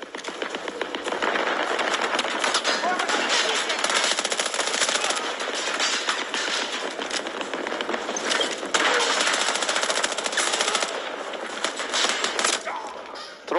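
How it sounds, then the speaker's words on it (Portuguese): Sustained automatic fire from a PBX-45 submachine gun in Battlefield 2042, dense rapid bursts running nearly continuously and loud throughout, with faint speech mixed in. "Cara, atirar na cabeça aqui também é muito fácil."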